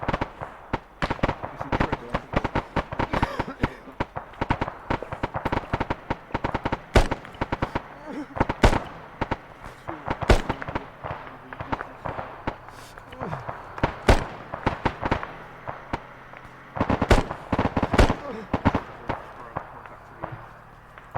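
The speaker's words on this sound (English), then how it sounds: "taking fire southwest south" Gunfire in a military video game: dense, irregular volleys of rifle shots and bursts, some close and sharp, others distant, continuing throughout.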